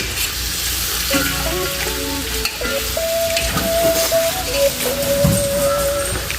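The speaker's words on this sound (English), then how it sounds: "I'm gonna go ahead and I'm gonna give that a good mix real quick" Neckbone and oxtail stew being stirred in a pot, steady sizzling and bubbling with scraping spoon strokes, close and fairly loud, no talking.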